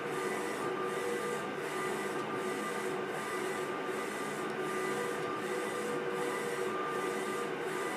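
DTF transfer printer running steadily, a constant mechanical hum with a regular rhythmic swish of the print head sweeping back and forth roughly every half second, close and even.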